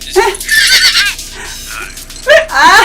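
Horse neighs loudly in a Spider-Man: Across the Spider-Verse movie scene, two shrill wavering whinnies at the start and end, close and prominent, with film voices and sounds between them.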